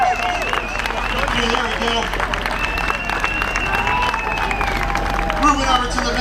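A crowd claps and cheers for half marathon runners crossing the finish at the Marine Corps Half Marathon, steady applause and whoops over outdoor babble, with someone speaking briefly over it.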